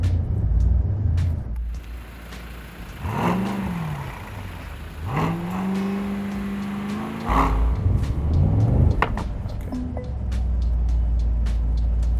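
A Mercedes-AMG SL 55 engine heard from inside the car, revving up in two or three rising pulls with a deep rumble and a whirring whine, then settling back to a steady drone.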